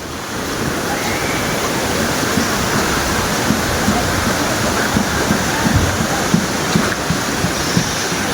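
Strong rushing water after heavy rain at an inland resort in Negros Occidental, a loud, dense, continuous roar with no breaks or voices.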